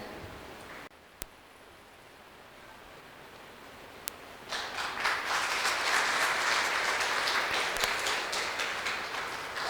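Audience at a Himalayan spiritual retreat morning session in Rishikesh breaks into applause partway through, a broad crowd patter that swells and holds steady after a quieter stretch with a couple of sharp ticks.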